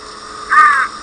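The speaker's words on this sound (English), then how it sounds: "The sound of the crow originally" A single loud crow caw rings out, harsh and nasal, lasting under half a second against a quiet background.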